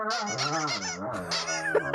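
A squeaky dog toy squeaked in a run of loud, close, honk-like squeals that continue for about two seconds, with no talking.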